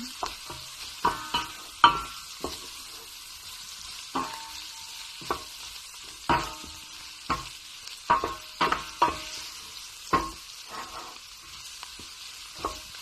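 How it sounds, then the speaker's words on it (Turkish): Onions being stirred in a cooking pot for tas kebab, a spoon scraping and turning them in repeated irregular strokes over a soft sizzle, fairly close, with no talking. "Böyle döndürüp karıştırıyorum iyice."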